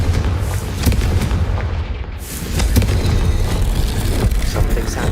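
A Confringo fire spell blasts in Hogwarts Legacy, a loud booming burst with rumbling, crackling impact noise that carries through the whole short stretch with no pause.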